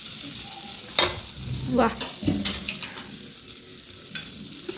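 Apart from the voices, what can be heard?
moong dal pancake (dhirde) cooking on a pan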